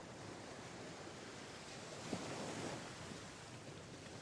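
Steady washing roar of Black Sea waves and surf, with wind buffeting the microphone, at an even level throughout.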